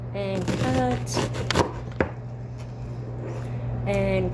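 A knife cutting an onion on a board, a handful of crisp chops in a quick cluster, with a voice speaking before and after them.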